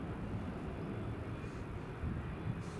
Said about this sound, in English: Oh, another BizJet's taxiing down.